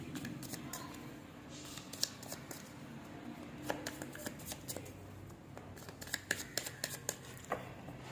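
Tarot cards are handled and shuffled close up, with soft repeated riffling and flicking taps that grow busier toward the end, while someone speaks faintly in the background.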